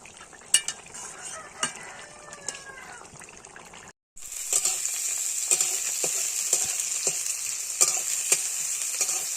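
Onion and chili fry for a fish curry, a steady close sizzle that swells louder after a brief gap, broken by scattered clinks and stirring scrapes of a utensil against the pan.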